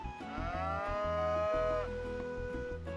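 A cow in a farming video game gives a long, drawn-out moo that slides downward in pitch, loud and clear over steady background game music, with no talking.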